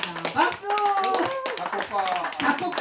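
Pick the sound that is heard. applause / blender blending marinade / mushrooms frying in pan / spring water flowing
applause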